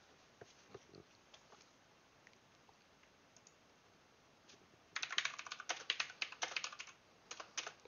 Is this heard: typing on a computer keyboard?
yes